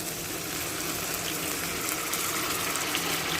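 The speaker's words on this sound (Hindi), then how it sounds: "अब हम इसमें जिस पानी में हमने मटर बॉईल किए हैं वो पानी हम इसमें शामिल कर देते हैं" Water from boiling peas is poured into frying minced meat (keema) in a pan, giving a steady gushing, splashing pour that stays loud and constant without speech.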